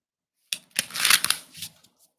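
A brief riffle of tarot cards being shuffled, a soft papery flutter that rises and fades over about a second and a half in a quiet room.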